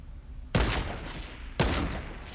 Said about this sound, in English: I'm just going to take some pot shots at him